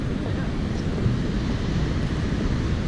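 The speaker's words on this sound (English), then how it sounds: "Those are really big waves." Big ocean waves crash and wash against the La Jolla bluffs in a dense, continuous roar with heavy wind buffeting the microphone, loud and close throughout.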